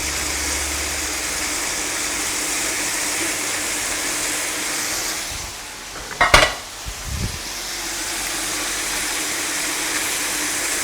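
Prawns searing in a pan with garlic, butter, olive oil and rosemary give a steady, close sizzle, broken once midway by a brief clatter of the pan, with no talking.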